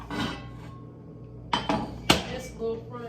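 A small frying pan lifted off a stovetop burner in a home kitchen, giving a few sharp metallic clanks and knocks close by, with low background noise between the hits.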